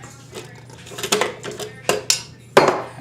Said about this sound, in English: I'm going to stop it. I'm going to remove the bowl